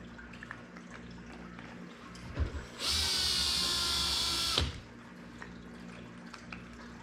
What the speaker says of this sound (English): see that reel's turning in a counterclockwise direction now